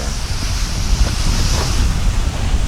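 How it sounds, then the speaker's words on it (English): Steady wind roars across an exposed slope on Mount Rainier, a loud, continuous gusting rush that buffets the microphone for the whole stretch with no voices. "Which way is the wind even coming from?"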